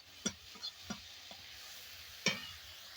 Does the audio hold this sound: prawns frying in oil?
yes